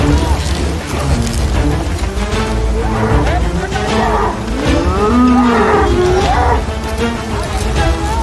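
Bullocks and cattle moo loudly in long, drawn-out calls over a steady rumble of rural activity, with voices talking and shouting throughout.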